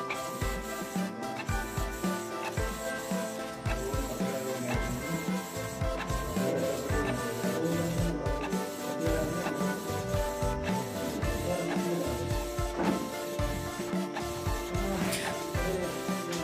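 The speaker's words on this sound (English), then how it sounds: "Now the machine starts to copy." A Canon G2010 inkjet printer copying a page runs steadily for the whole stretch with a continuous mechanical whir, rubbing and soft clicks of paper feeding, fairly close, with no voices.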